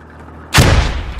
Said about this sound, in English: Trying to shoot through the windows.